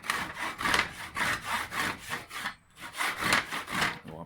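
A brand-new, very sharp Japanese hand saw cuts through a wooden workpiece in steady back-and-forth strokes, about ten rasping passes close up with one short pause partway through, and no talk.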